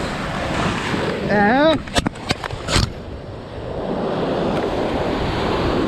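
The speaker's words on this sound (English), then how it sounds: "the waves were so strong that it surrounded the entire area" Strong surf on a South Goa beach, a loud continuous rush of breaking waves with heavy wind buffeting the microphone, while a voice and some sharp knocks are heard briefly in the middle.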